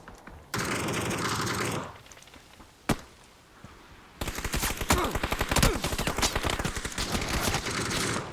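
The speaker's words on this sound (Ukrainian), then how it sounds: "Зараз зараз по мені стріляють." Bursts of rapid gunfire crackle loudly in a game, with a sharp single shot midway and dense, rattling automatic fire filling the second half.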